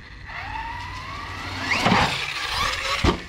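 An Arrma RC car drives nearby, its electric motor whining and rising in pitch as it speeds up, with a couple of sharp knocks near the end and no talk over it.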